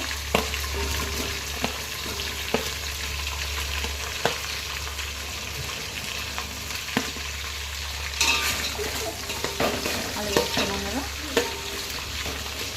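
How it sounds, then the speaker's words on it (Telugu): Potatoes tumbled into frying rice for a mixed vegetable rice, stirred with steady scraping strokes over a continuous low sizzle, with occasional clinks of utensil on pot, close and fairly loud throughout. "ఇప్పుడు ఆలు వేస్తున్నాం."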